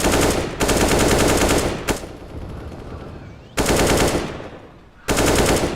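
Bursts of automatic gunfire in a CS:GO match at the IEM Katowice 2019 grand final, rapid loud volleys in two long strings and a short one, separated by quieter gaps.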